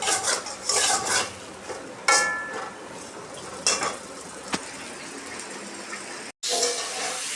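Pointed gourd (potol) frying in a pan while being stirred, giving a soft, steady sizzle broken by scraping and clinking against the pan, with a brief drop to silence near the end.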